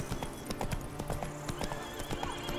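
In The Witcher 3 video game, a horse's hooves clip-clop in a quick galloping rhythm with a neigh mixed in, heard close and fairly clear against the game's background sound.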